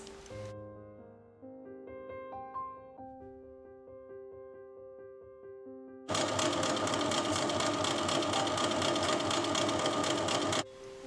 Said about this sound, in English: Once the various shades of organza have been cut into rectangular strips, they will be sewn end to end